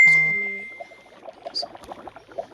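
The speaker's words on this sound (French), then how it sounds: "désolé pour les notifications" A bright notification ding rings out with a long sustained tone, then a flurry of small clicks and faint tinkling follows, quiet and close, with no talking.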